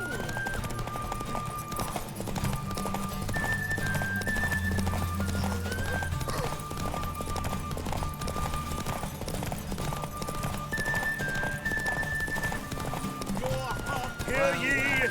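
Geralt's horse Roach gallops in The Witcher 3 during a derby race, with steady rhythmic hoofbeats close and continuous under game music, a neigh or two, and a voice speaking over it.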